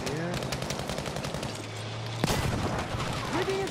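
Bursts of automatic gunfire in the shooter game Battlefield V on PS4 crackle close and loud, with a heavier boom partway through and a brief pause before the firing resumes.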